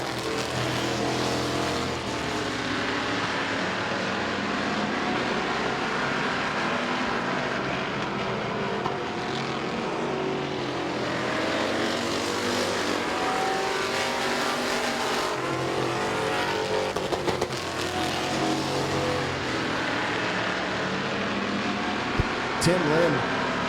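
Stock cars race at Midvale Speedway, engines roaring loudly and continuously as the field circles the track, with pitch swelling and fading as cars pass; a track announcer talks over the din throughout.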